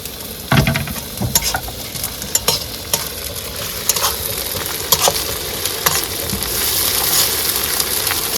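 Onions and chili paste with ginger and garlic frying in a pan by a Sundarban river, a steady loud sizzle with repeated stirring scrapes close by, no talking.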